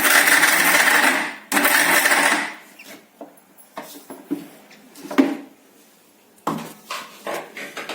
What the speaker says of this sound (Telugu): గింజలతోనే దీన్ని మిక్సీలో వేసుకొని తీసేద్దాం